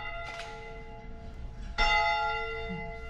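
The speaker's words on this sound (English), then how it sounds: "The original bell." The original bell at Cumberland Gap, a large old bell, rings out close and loud with two strong strikes, the second swelling into a long, humming ring that lingers through the end.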